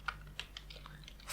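Computer keyboard keys tapped while writing code for a P5JS sound-visualization sketch: a handful of quiet, separate clicks at an uneven pace, close but faint, with no voice.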